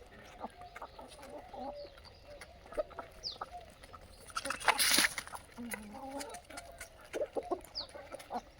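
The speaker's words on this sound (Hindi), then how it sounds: "ये देखो नॉर्मल टेढ़ी मुर्गियाँ हैं" Desi chickens cluck on an Indian poultry farm, with scattered soft clucks and a brief squawking flurry midway, fairly quiet and close against a low background.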